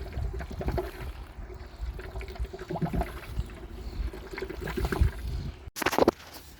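Water runs steadily into a tub with a splashing, trickling texture, nearby and moderately loud, with a brief sharp knock near the end.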